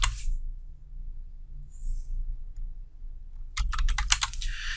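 A change-directory command is typed on a computer keyboard: a quiet pause, then a quick run of close, crisp keystrokes near the end.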